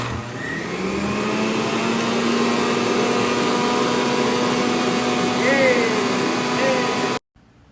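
An electric juicer runs on celery, a steady close motor whine with a rising pitch that holds evenly for about seven seconds before cutting off abruptly.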